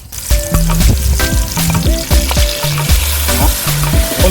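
Diced tomato frying alongside peppers simmering in a pan for Algiers-style rice, a loud steady sizzle with tonal clanks and scraping strokes repeating across the whole stretch, no voices.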